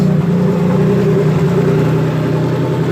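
A Dodge Stealth engine runs after its wiring harness has been soldered back together, a steady, loud idle with an even low rumble throughout and no voices.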